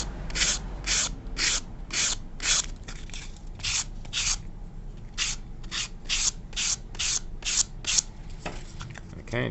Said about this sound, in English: If it's too tight, just give it a couple more sands.